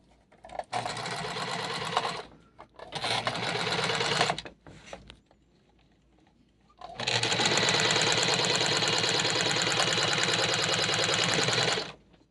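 A Singer portable sewing machine that is semi-stuck runs in close, loud bursts: two short runs, a pause, then one long steady run of about five seconds with a fast mechanical chatter.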